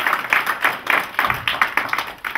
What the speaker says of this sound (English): So please, a round of applause for the organization.